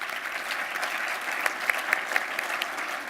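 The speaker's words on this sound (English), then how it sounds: "Please join me in a round of applause for Michelle" A crowd at a community trends presentation in the Lehigh Valley breaks into steady applause, with a few sharper individual claps standing out from the even wash of clapping.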